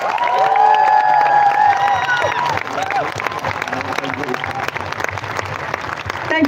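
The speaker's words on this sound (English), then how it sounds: "Give her a big hand." An audience at Parliament House in Canberra applauds a climate speaker, loud sustained clapping with some cheering and a voice over the top early on, easing slightly toward the end.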